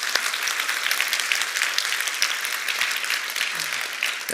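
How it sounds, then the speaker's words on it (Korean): A church congregation gives a steady, full round of applause to welcome a missionary couple serving in Moldova, the clapping sustained and even throughout. "박수로 한번 환영하도록 하겠습니다."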